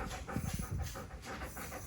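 A pet dog pants steadily at close range before its dinner, a short run of quick breaths over a low background hum.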